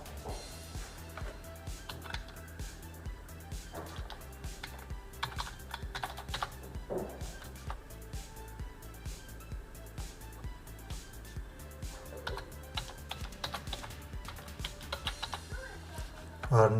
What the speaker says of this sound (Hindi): मैं यहाँ पर टाइप करता हूँ नेम और यहाँ पर जो है ना अपना ईमेल एड्रेस